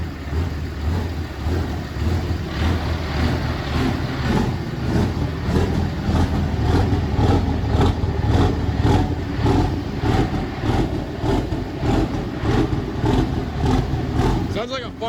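A Cummins diesel truck engine, 2nd or 3rd generation, idles roughly after a cold start with a steady loud clatter and periodic revs, close by, with people talking over it.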